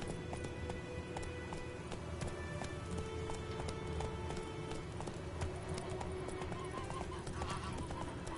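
Hoofbeats of a horse galloping in a video game ride at night, a steady rapid clip-clop running throughout over game music and ambience, with a brief whinny-like sound near the end.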